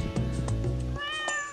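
A cat in the video game Stardew Valley gives one clear, close meow that rises in pitch and then fades, with a short sound before it.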